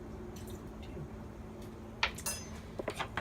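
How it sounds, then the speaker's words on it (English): Two tablespoons of water added to flour for a sourdough starter, a soft wet splash followed by a few quiet squishy drips and small clicks against a faint room hum. "And then I am going to put 2 tablespoons of water"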